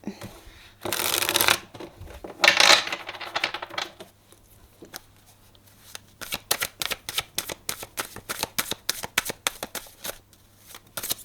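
Tarot cards are handled for a reading: a couple of loud riffled shuffles, then a quick, steady run of close, crisp snaps as cards are flicked or dealt one after another.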